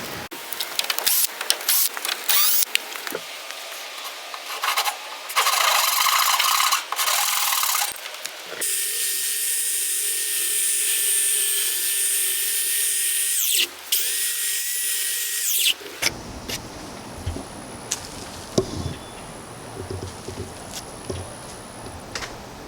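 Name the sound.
power tool cutting rounded corner of wooden tent frame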